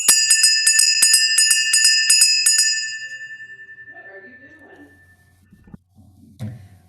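A small hand bell rings repeatedly during a church service, a rapid bright series of strikes that stops and then fades out as a long shimmering tone, followed by faint room noise and a brief voice.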